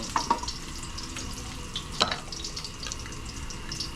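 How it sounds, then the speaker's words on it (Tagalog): Sardines sautéing in a home kitchen pan, a faint steady sizzle with a few sharp pops and light clinks of stirring, no voices. "igisa mo naman yung sardinas muna"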